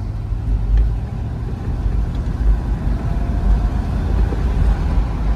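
A 1982 Mercedes-Benz 380SL cruises along the road, its steady engine drone and low road rumble holding constant and fairly loud throughout.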